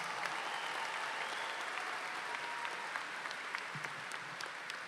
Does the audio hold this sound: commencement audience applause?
yes